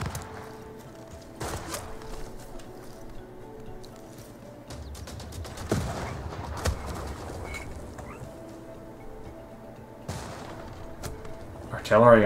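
Artillery strikes in Civilization VI, a series of scattered booms and gunfire-like cracks at moderate loudness over a quiet game ambience, with a few sharper hits spaced several seconds apart.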